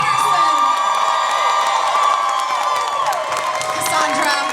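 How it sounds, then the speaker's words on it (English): Convention panel audience at a haunted attraction event cheering, whooping and applauding loudly, a dense crowd roar with shrill yells under a voice speaking over the noise. "another applause for our fabulous Elvira herself, Cassandra Peterson."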